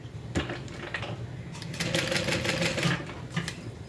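A sewing machine stitches across the bottom of a crossbody bag, running in short mechanical bursts with clicks and clatter, close and moderately loud, with a steadier run in the second half.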